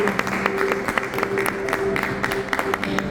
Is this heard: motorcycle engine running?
no